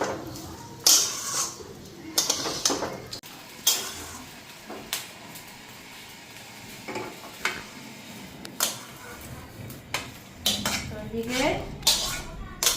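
Rice fried and stirred in a pot, with repeated metal clanks and scrapes of a utensil against the pot over a soft sizzle, uneven bursts with quiet gaps; a voice speaks briefly.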